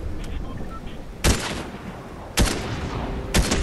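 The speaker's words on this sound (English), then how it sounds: "Lots of shooting." Gunfire in Fortnite: three sharp, loud bursts of shots spaced about a second apart over a low, steady game background.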